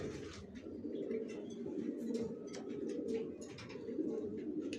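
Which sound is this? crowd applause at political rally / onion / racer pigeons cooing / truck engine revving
racer pigeons cooing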